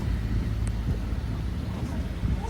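Steady breeze buffets the microphone at the La Cruz anchorage on a hot, humid day, a continuous low rumble of wind with no talk.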